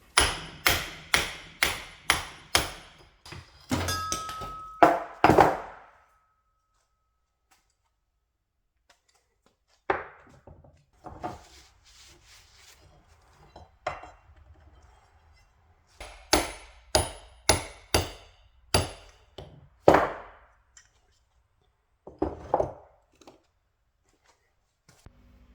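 A bushing is hammered out of a Citroën C15 using a heavy-truck socket: sharp metallic blows in quick bursts, a rapid series at the start, a lull, then further clusters of ringing strikes close by.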